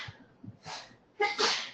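A single person sneezes, with a short sharp inhale building into a loud burst, heard close and alone in a quiet indoor room.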